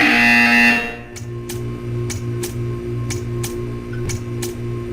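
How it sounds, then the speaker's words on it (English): A loud tone stops, then a repeated electronic buzzer from the game Portal 2 sounds in short regular pulses over a low steady hum, about eight beeps in a row. "You will hear a buzzer."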